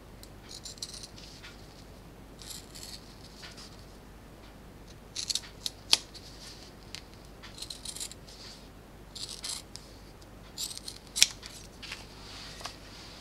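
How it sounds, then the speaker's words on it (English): Scissors cutting out fabric pieces for a small purse, quiet scattered snips and crisp metallic clicks in short bursts over a soft background hiss, with no talking. "then you need to cut these parts out."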